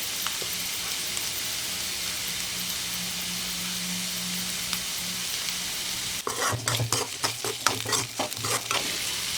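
Potato fry sizzling in a pan after salt is added, a steady broad frying hiss for the first six seconds, then a series of louder scraping stirs and clatters toward the end, with no talking.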